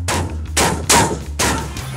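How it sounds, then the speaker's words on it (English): A 40mm Bofors cannon on a CV90 tracked combat vehicle fires in a rapid sequence of four heavy, booming shots about half a second apart, each a loud broadband blast with a ringing tail. "The 40mm Bofors cannon can fire smart shells"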